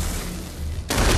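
Gunfire in the VR shooter Population: One, in a metro arena map: a faint rattle gives way near the end to a loud, dense burst of shots that continues to the clip's close.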